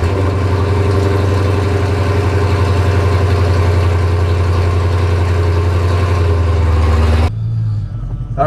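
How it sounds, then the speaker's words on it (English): Procharged 5.7 Dodge Challenger R/T V8 in a cold start, rumbling at a steady, loud, high idle up close for about seven seconds before suddenly cutting to a much quieter low idle. "So here it is, cold start."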